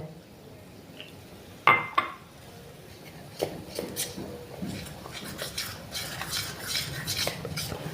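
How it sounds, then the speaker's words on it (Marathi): A spoon mixes ragi flour with water into a paste in a small bowl, starting with two sharp clinks against the rim and followed by a run of soft, close scraping strokes that continue steadily. "आता यामध्ये पाणी घालून आपण याची पेस्ट करूया"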